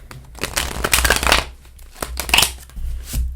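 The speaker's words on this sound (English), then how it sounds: "I just need to shuffle them as well." Tarot cards being shuffled by hand, crisp riffling bursts of paper slapping together in two close, fairly loud rounds separated by a brief pause, with no talk over it.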